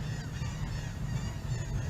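Goose-like birds honk in a steady, dense flock chorus, a continuous chatter of calls with no talking over it.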